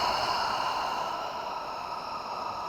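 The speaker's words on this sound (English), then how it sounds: "And then exhale out the mouth." One long, soft breath pushed out through the mouth during a slow yin yoga breathing exercise, a steady airy exhale heard up close in a quiet room.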